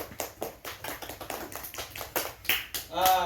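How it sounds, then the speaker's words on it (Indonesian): Classmates in a classroom clap after a micro-teaching answer, a quick run of sharp, uneven hand claps, moderately close, ending in a brief bit of voice. "Silakan tepuk tangan teman-temannya ya"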